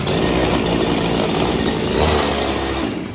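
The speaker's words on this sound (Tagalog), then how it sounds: "Meron ka ng grass cutter na heavy duty, talagang tumatagal po yan" A heavy-duty CG411 grass cutter engine with metal and nylon blades runs loud and steady at high revs, a continuous close buzzing drone with a slight surge near the end.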